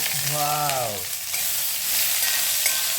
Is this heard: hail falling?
no